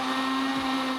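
A kitchen blender whirs steadily, blending coffee with 50% cocoa chocolate powder and no sugar. The motor holds a loud, even drone with a strong constant pitch, and no one speaks.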